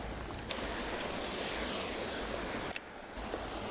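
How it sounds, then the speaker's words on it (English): A hidden waterfall found beside thick grass on a frog fishing outing, a steady broadband rush of falling water close by, with a couple of brief clicks and no talking. "We just found literally a hidden waterfall."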